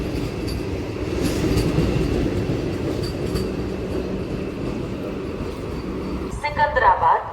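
The 17645 Secunderabad to Repalle express, a twenty-coach train, rumbles past with a steady loud roll and rattling of wagons, ending in a brighter clatter of wheels; a voice speaks over it.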